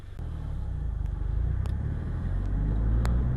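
A Subaru FRS sports car pulls away, its engine giving a low, steady rumble from inside the cabin, with a few faint clicks and taps over it.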